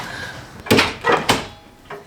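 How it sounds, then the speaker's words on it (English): A house door is pushed shut in a cold entryway by the living room, giving a few solid thuds and a latch rattle in quick succession, close and fairly loud, with no talk over it. "Let's shut the door."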